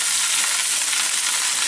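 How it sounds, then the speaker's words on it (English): Swiss chard sautés in a hot pan, cooked Mediterranean style, giving a steady close sizzle of frying that is loud and uninterrupted, with no voices over it. "And now we're gonna add the Swiss chard and we're gonna saute."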